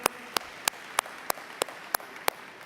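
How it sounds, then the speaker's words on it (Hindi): An audience at a spiritual gathering claps in unison, about nine sharp, evenly spaced claps in a steady rhythm over a quiet hall. "जोरदार ताली उधर"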